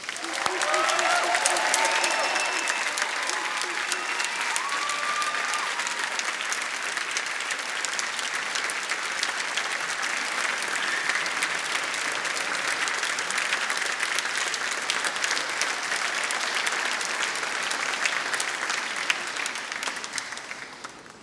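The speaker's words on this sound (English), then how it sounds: "let's give everybody a round of applause." A large graduation audience at the University of Manchester applauds steadily, a dense wash of clapping that holds for about twenty seconds before tapering off at the end.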